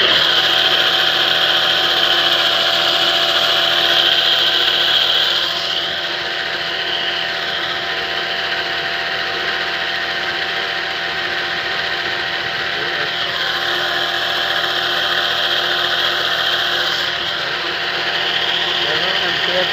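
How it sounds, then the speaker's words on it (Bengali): An electric motor runs on power from a solar off-grid pure sine wave inverter with no battery, giving a steady, loud mechanical hum and whine that holds throughout and drops slightly in level partway through. "এখন আমরা একটা মোটর চালাবো।"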